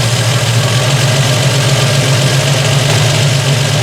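Carburetor engine idling steadily with a constant close, loud rumble and a slight knocking texture as the RPM sits raised after the mixture adjustment.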